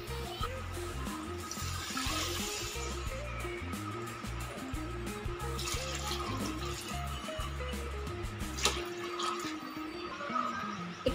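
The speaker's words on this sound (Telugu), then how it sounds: "మనం ఇందులోకి ఎసురుకి వాటర్ యాడ్ చేసుకోవాలి" Water pours into a cooking pot for bagara rice in a continuous, even gushing stream lasting several seconds, close by and without speech.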